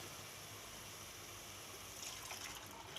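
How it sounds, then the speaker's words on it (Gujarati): Water streams steadily into a pot of rajma curry with cooked spice masala, a soft continuous rushing pour heard close and fairly quiet, with no voices. "તો આપણે આ પાણી હોતા જ નાખી દેવું."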